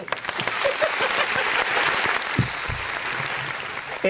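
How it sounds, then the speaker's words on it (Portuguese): Audience applause rings out for a speaker's cynical gaze at a Portuguese-language talk, a dense, steady wash of clapping that fills the whole stretch at close range, with a few low thumps breaking through near the end. "dá uma salva de palmas pro olhar cínico"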